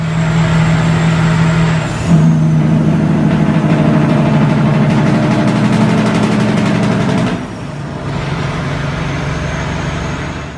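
A Cat C15 diesel truck engine with 8-inch straight pipes idles loud and close, its steady low drone rising briefly to a harder rev before settling back to idle.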